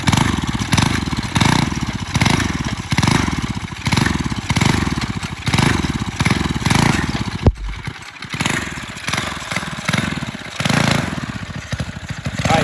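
A turbo mini bike's small engine runs while being ridden, its buzzy, raspy drone pulsing steadily with throttle surges for about twelve seconds, broken briefly by a sharp thump and dip before the engine note picks back up.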